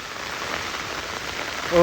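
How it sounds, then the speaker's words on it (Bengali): Steady heavy rain during flooding in Laksam, Bangladesh, hisses across surfaces in a soft, even wash, continuing throughout with a brief louder tonal sound at the very end. "যেভাবে বৃষ্টি হচ্ছে এখনও আজকে সকাল থেকেও কিন্তু খুব বেশি বৃষ্টি হচ্ছে"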